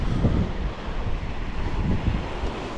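Strong wind buffets the microphone on a cloudy, blustery February day along the Crimean coast near Yalta, a continuous low rumbling roar with gusty swells and no voices.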